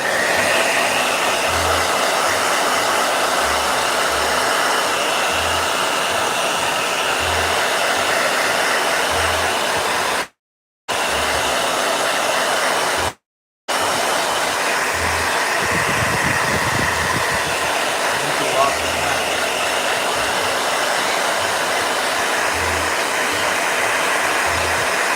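Handheld blow dryer running steadily and loud for about 25 seconds, a continuous whooshing hum that cuts out twice briefly near the middle before resuming, with no talking over it.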